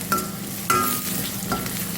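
Hot oil sizzles steadily with a few sharp crackling bursts as garlic and cumin seeds hit the pan, close and moderately loud, with no talking.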